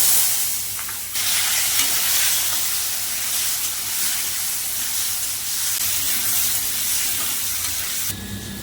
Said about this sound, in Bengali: মাছগুলো সব ভেজে নিয়েছি এবার আলু ভেজে নেব